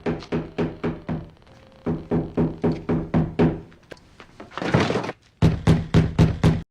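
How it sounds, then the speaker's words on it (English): Rapid, insistent knocking on a door in a TV drama scene, sounding as sharp evenly spaced bursts of blows repeated in several runs with brief pauses between them, loud and close. "people that knock like that drive me crazy"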